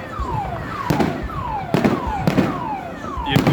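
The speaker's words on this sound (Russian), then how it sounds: "Вот это салют." New Year fireworks over Irkutsk: several sharp bursts about a second apart, each preceded by a falling whistle, booming close and loud against a steady crowd murmur.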